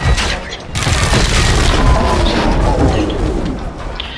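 Dense, loud gunfire and heavy booms from a firefight against robots in the video game Generation Zero, forming a continuous rumbling barrage with no clear pauses.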